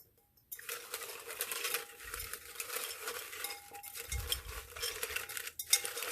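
Soft, continuous riffling and sliding as a deck of small cards is shuffled by hand, fairly quiet and close, with light papery clicks and a brief pause near the end.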